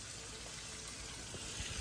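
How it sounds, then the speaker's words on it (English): Water drained off a seafood boil of lobster and grouper, a steady, faint rushing pour that stays even throughout with no voices. "I need to drain that water off so that we can pour it in here"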